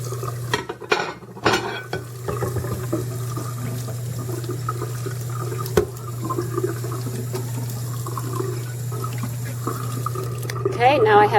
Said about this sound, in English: you should rinse off the bottom as well to get any food off the bottom